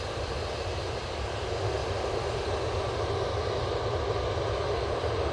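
A Ryanair jet departs Manchester Airport on a short hop to Derry, its engines giving a loud, unbroken roar that holds steady throughout with no talk.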